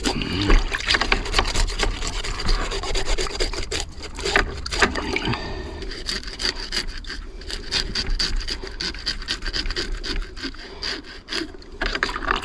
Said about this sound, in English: I've got this fish descaling tool, just a cheapy job, and we're just going to scrape them off.